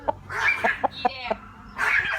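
A rooster gives rapid clucks and short calls up close, with a low hum underneath and bursts of brighter noise in between.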